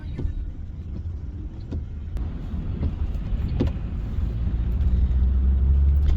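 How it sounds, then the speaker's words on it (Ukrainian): Cars roll slowly along a rainy street, giving a steady low rumble of tyres and engines that swells slightly as a vehicle draws nearer. No voices are heard. "У нас дощик, трохи так помало машини вже їздять, помаліше"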